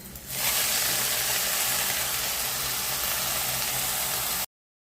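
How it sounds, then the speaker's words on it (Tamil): Grated coconut and coriander leaves fry in a little oil, making a dense, loud hiss and crackle close up that holds steady for several seconds and then cuts off abruptly. "கொஞ்சமாக எண்ணெய் விட்டு வதக்கிக்கலாம் இப்போது கொத்தமல்லி சேர்த்துக்கலாம்"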